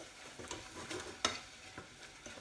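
Mushrooms and onions cook in butter in a pan, a soft sizzle broken by irregular stirring scrapes and one sharp utensil clack midway, fairly quiet and close with no voices.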